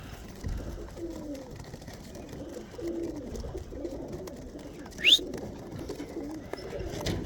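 Tippler pigeons coo in low, soft, repeated phrases against a quiet background, with one brief sharp chirp partway through.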